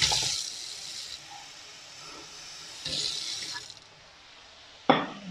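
Water poured into a pan of fish and tofu on the stove gives a steady hiss and splash, with louder bursts at the start, around three seconds and near the end.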